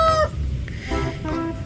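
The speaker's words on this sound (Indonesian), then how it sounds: "ini ada ayam berkokok" A toy rooster crows once, a bright harmonic call in the first quarter second, then a second electronic crowing phrase follows after a short gap, close and clear with a low background hum.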